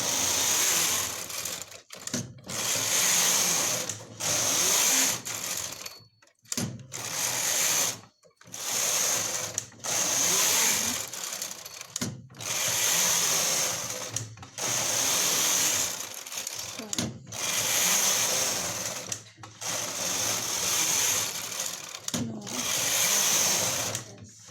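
A punch card knitting machine knits plain rows as the carriage is pushed back and forth in repeated loud mechanical runs, each separated by a brief pause, with someone talking intermittently.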